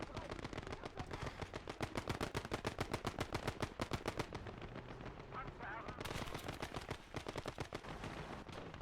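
Rapid bursts of automatic gunfire with a sniper shot in the WWII video game Gates of Hell: Ostfront, dense repeated cracks through most of the stretch, pausing briefly before another long burst.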